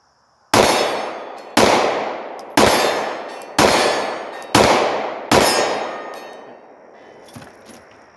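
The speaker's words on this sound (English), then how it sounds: "I'm shooting one-handed." Six evenly spaced, loud pistol shots from a Sig 320 M17 fired one-handed at 18 yards, each a sharp crack with a ringing decay, outdoors at a range.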